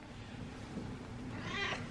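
A single house cat gives one short meow near the end, fairly faint over a steady background hum.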